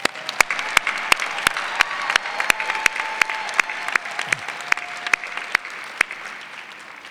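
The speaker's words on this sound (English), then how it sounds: "Let's give them a round of applause." Graduates at a fall graduate commencement ceremony receive steady crowd applause, dense and sustained throughout, with sharp individual claps standing out close by.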